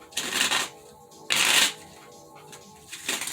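Tarot cards are shuffled in two quick riffling bursts, crisp and close, followed by a quieter pause and the start of another shuffle.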